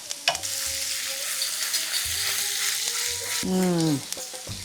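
Grated ginger hits hot oil with crackling cumin seeds, a loud close steady sizzle that lasts throughout, with a few clinks of a spoon against the pan and a brief voice toward the end.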